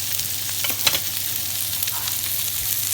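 Monkfish and monkfish liver sizzle in a frying pan with a steady, close, hissing crackle that runs unbroken throughout, with no voices.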